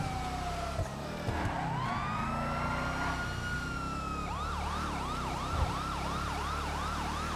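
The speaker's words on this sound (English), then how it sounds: "being a cop car, turn on those sirens and the lights, and everybody scrambles to get out of your way" A police car siren wails in GTA Online from a Gauntlet Interceptor, a long rising-falling wail that switches to a fast repeating yelp, loud and steady over a driving engine.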